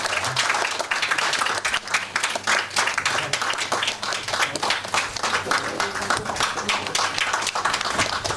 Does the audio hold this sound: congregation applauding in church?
yes